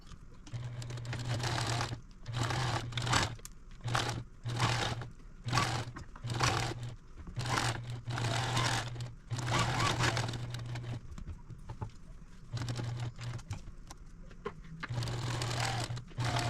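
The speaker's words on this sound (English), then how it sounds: "Now let's take it over to the sewing machine." A sewing machine stitches a quarter-inch seam around fabric placemats in short bursts of rapid mechanical whirring, stopping and starting repeatedly at close range without talk.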